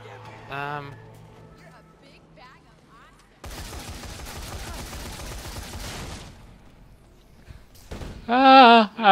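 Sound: explosions and gunfire in Dead Rising 3 video game

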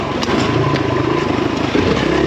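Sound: KLX enduro motorcycle riding on a trail

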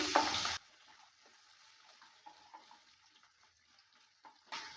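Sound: potatoes being stirred while frying

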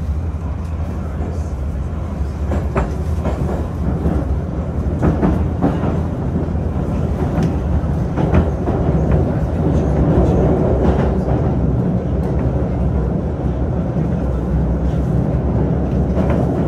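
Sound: Moscow 2020 metro train running on circle line

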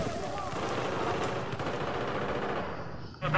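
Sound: gunfire in the video game Battlefield 4

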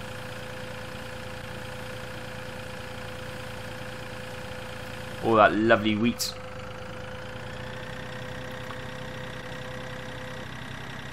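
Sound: tractor engine in Farming Simulator 2013 video game

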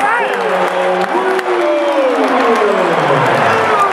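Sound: crowd cheering after a dunk at high school basketball game

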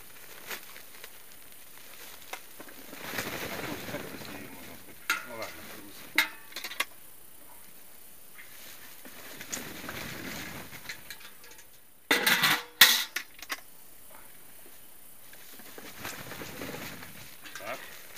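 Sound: potatoes being poured out of the harvester

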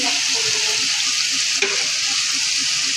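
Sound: frying spice masala for chicken kosha

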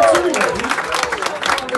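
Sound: audience applause

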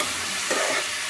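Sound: dalia being stirred in a frying pan

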